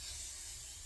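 Brief, steady aerosol hiss of TRESemmé hairspray being sprayed onto hair close by, a continuous whoosh lasting under a second with no talking.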